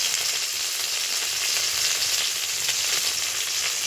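Green chilli and tomato sizzle in a wok over a cumin tempering, a steady, close, dense frying hiss that holds evenly throughout with no voices.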